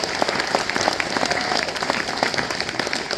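Audience applause at the grand opening of a Lake Havasu City sheriff's substation, steady dense clapping from a crowd filling the whole stretch at moderate volume.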